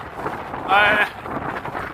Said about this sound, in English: Very windy, straight into a westerly wind.